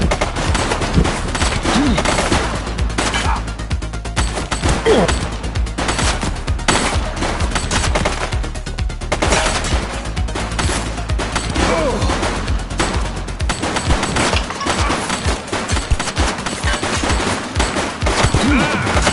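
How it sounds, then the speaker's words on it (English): Sustained bursts of gunfire fill a shootout in the PS5 police game The Precinct, rapid automatic volleys and single cracks layered over constant loud action, with brief shouted voices mixed in. "Shots fired!"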